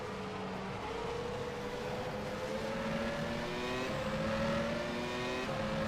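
A 1996 Formula One race car engine in the rFactor 2 sim racing game screams at high revs, its pitch climbing through gears with brief shift drops, loud and continuous with other cars nearby.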